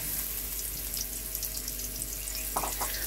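Chopped onion and garlic frying in soybean oil in a wok, giving a steady, fairly quiet sizzle and crackle throughout, with a brief stir or scrape near the end.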